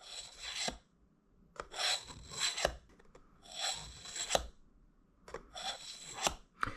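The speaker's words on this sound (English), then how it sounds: "just work your way down across that blade, applying constant, even pressure with your sharpener" Tungsten carbide sharpener rasped along a knife blade in repeated close strokes with constant, even pressure, each gritty scrape lasting about a second with short pauses between, no voices.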